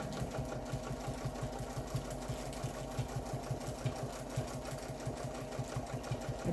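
A domestic sewing machine stitches rapidly while pantograph machine quilting, a fast, even mechanical chatter heard close and quiet, running without pause.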